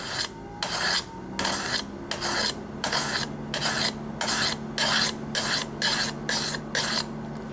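Serrated kitchen knife drawn across a sharpener in a steady series of about a dozen rasping strokes, close and fairly loud, with no talk.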